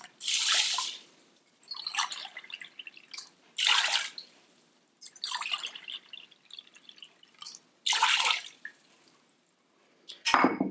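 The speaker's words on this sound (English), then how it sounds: "We put the double amount of water, that's 3 cups." Water pours in several separate bursts with pauses between, about 3 cups splashing into a cooking pot nearby, ending with a sharp clank.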